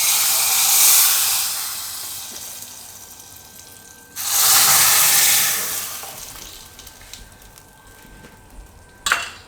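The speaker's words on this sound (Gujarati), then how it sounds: "હવે આ વઘાર આપણે આમાં સાંભાર ઉપર નાખી દઈશું." Hot tempering poured onto dal palak sambar in a pot gives a loud, steamy sizzling hiss that fades and then flares up again around the middle, with a short clatter near the end.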